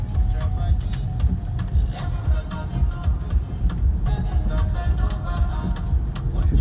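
A car pushes through flood water in Nottinghamshire and Derbyshire, steady engine rumble with continuous splashing and wash, close and loud throughout, with people talking over it.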